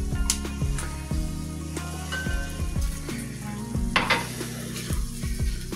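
Fried tomato sauce hits a hot pan of macaroni for macarrones a la riojana, sizzling loudly and continuously up close while a utensil stirs and scrapes against the pan with repeated clinks.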